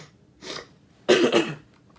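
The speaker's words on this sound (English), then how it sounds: "I'm sorry for coughing like that" A man coughs twice, close and fairly loud: a short single hack, then a harsher double burst after a brief pause.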